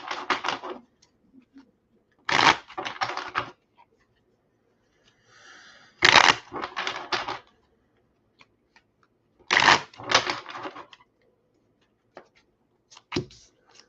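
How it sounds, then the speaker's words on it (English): Tarot cards are shuffled at close range in four separate bursts of crisp riffling and flicking, with near-silent gaps between them and a single sharp tap at the end. "let me shuffle him up for you, Gabe."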